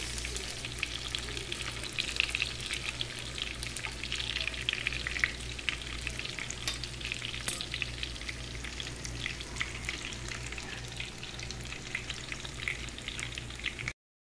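Chicken nuggets frying in hot oil, a steady, close crackling sizzle that runs continuously at an even level with no talking.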